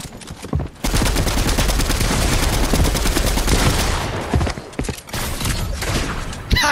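A sniper rifle fired without scoping in Fortnite: a loud, sustained crackle of shooting starts abruptly, runs for several seconds, briefly drops out and then resumes, with no talk over it.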